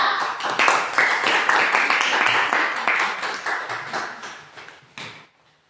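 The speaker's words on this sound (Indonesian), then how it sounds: "kita beri tepuk tangan yang meriah untuk kelompok 2" A classroom audience claps for a student presentation group at a teacher-training performance test, a dense patter of hands sustained for about five seconds before stopping abruptly, with a few single claps near the end.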